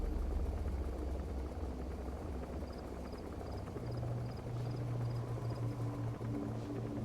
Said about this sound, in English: I can clearly hear 2 helicopters